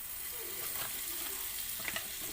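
Butter sizzles in a heated pan for Filipino fish sisig, a quiet continuous hiss with a few faint pops and light clinks, no talking.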